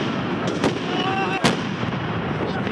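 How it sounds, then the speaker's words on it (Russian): Firecrackers go off during street clashes between crowds of activists, with two sharp loud bangs over a busy crowd murmur and voices. "Взрывались петарды."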